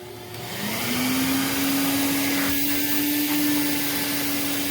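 A Prolux CTX water vacuum spins up and runs steady and loud as it cleans its power nozzle, a rising motor whine that settles into a constant hum.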